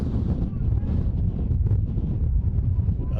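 Strong wind buffets the microphone at an outdoor youth soccer match on a windy day, a loud, continuous low rumble that fills the whole moment with no clear voices.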